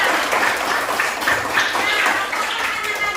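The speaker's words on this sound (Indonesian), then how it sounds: "Kasih tepuk tangan dulu" Students in a classroom applaud a student group after a presentation, a short burst of scattered, moderately loud clapping that holds for a few seconds.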